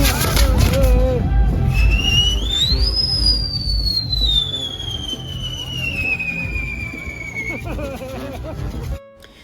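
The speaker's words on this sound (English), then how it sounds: "they light them up and they're full of fireworks" Fireworks strapped to bowls carried by dancers at a celebration in Oaxaca go off with a long rising-then-falling whistle over crackling and crowd babble, ending abruptly.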